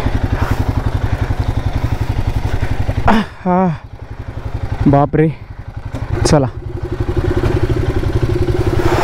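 A Royal Enfield Himalayan 450 heavy motorcycle on a road trip from Amritsar toward Srinagar drones with a loud, steady, close engine rumble. Brief voices break in over it a few times.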